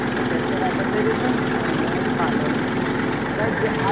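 A tractor engine idles in a farm field during groundnut sowing, giving a steady, continuous, close rumble that stays even throughout.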